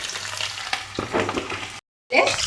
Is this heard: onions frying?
yes